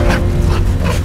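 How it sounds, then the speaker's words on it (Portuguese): A dog in a Brazilian film trailer gives a short burst of whimpering and yipping, close and loud over a low rumbling background. "É um cachorro."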